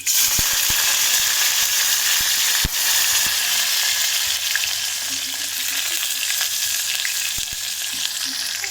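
Sliced onions and curry leaves hitting hot oil in a pan for mixed vegetable kurma, giving a loud, dense, continuous sizzle with occasional sharp crackles and spoon clicks, close and uninterrupted.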